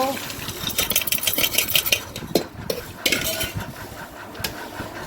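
Spices stirred into flattened rice and peanuts in a metal pan, a quick run of scraping, clinking spoon strokes with bright rattles that pause briefly and resume, close and moderately loud.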